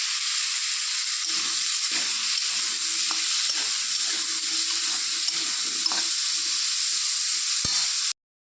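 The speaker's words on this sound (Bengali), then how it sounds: "এদিকে আলুটাও ভাজা হয়ে গেছে" Potatoes fry in a pan with salt and turmeric, giving a loud, steady sizzle that runs unbroken for about eight seconds and then cuts off, with faint stirring scrapes underneath.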